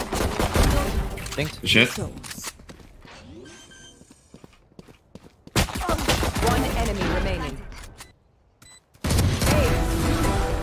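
Pistol fire in Valorant coming in quick bursts of sharp shots amid game noise, with gaps of quieter footsteps and effects and a player speaking briefly between the fights.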